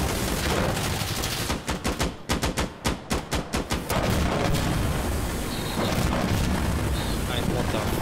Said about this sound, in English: All right, rocket.